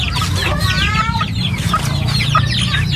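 A mother hen clucks in short, repeated bursts close by, with other fowl calling faintly in the background over a low rumbling hum.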